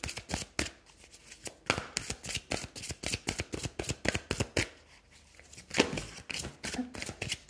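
Tarot cards being shuffled and dealt onto a table, a quick run of sharp, close riffling flicks and slaps in an uneven rhythm with brief pauses.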